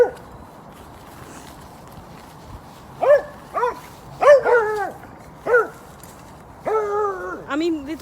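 Several dogs bark and yip excitedly in short bursts at a familiar local spot, the barks coming close and loud in clustered volleys over a low outdoor background, with a person talking briefly early on.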